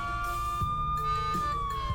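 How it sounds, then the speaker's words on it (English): Police siren played through a phone's speaker in the game Lucid9, a steady wailing tone held loud and close, gliding slightly lower near the end, with no talk over it. "Within a few seconds, a police siren is playing from the speakers"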